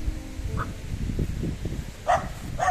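Thin dogs bark outdoors, one short yip early on and then two sharper, louder barks near the end, over a low background murmur.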